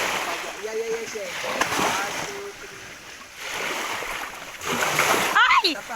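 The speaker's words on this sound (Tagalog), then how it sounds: "Ang lakas ng alon." Ocean waves splash and surge at a beach in bursts of broadband wash, with people talking and calling out over the water.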